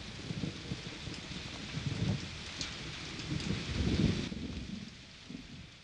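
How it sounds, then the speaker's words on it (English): Spring rain falling steadily, a soft broad hiss with low rolling rumbles swelling and fading beneath it, fairly quiet and without any voices. "you may find you're able to enjoy the sound of a spring rain"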